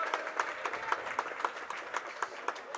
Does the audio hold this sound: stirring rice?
no